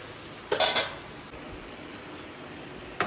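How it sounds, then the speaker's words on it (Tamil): Spoon stirring spices and masala in a cooking pan with sweet potato, two short clattering scrapes against the metal, one near the start and another at the end, over a quiet background. "இப்போ எல்லாத்தையும் போட்டு கிளறி கொடுத்துட்டு நம்ம கிழங்கு எடுத்து போட்டுற வேண்டியது தான்"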